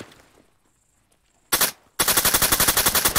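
Arma 3 combat gunfire: after a quiet moment, a single loud burst breaks out, then a rapid automatic volley of evenly spaced shots rattles close and loud to the end.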